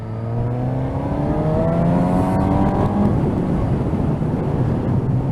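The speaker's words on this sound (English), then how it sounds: "It's got that lovely induction noise." A motorcycle engine drones steadily up close, its rising induction roar layered over a rumbling exhaust burble, with no talking.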